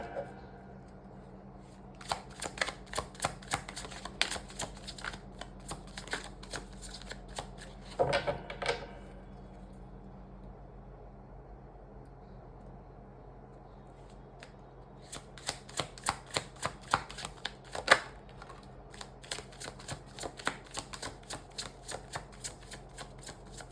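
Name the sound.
shuffling a deck of cards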